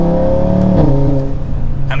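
An Audi RS3 with an inline five-cylinder engine and a full exhaust revs up, then drops back to a throbbing idle. The note is loud and close, with a rising sweep near the middle and no talking.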